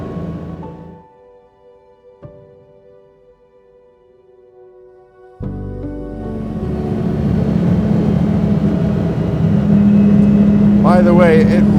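A 1970 Lamborghini Miura P400 S engine starts quiet and distant, then cuts in loudly around the midpoint and keeps building into a steady, rising drone while driving.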